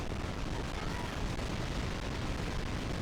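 A continuous, dense roar of heavy tank explosions and gunfire in the war video game Battalion Wars 2, with booms blending into one loud, unbroken barrage throughout.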